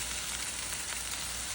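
Tomatoes sizzle in a hot frying pan while breakfast quesadillas are cooked, a steady close hiss of frying that stays even from start to finish with no talking.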